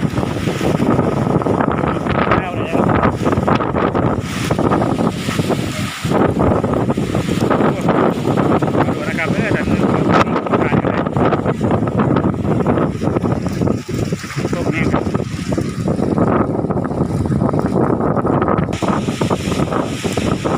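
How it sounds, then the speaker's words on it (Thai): Strong storm wind in Kalasin, Thailand roars continuously and loudly, buffeting the microphone with gusts and rumbling across the whole stretch with no voices. "ลมแรงครับ"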